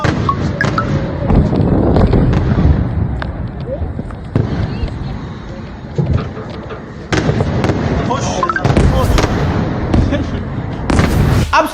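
Missile strikes hit near an airport, producing heavy repeated booms and crackling blasts that are loud and near and come in clusters over continuous rumbling, with agitated shouting voices mixed in.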